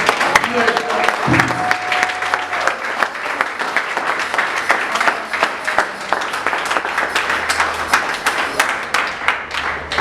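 A church congregation applauds during a sermon, with dense rhythmic clapping that carries on steadily throughout, fairly loud and close, with some voices and a brief sustained tone under it near the start.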